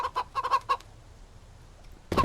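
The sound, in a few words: chicken clucking in the video game Mist Survival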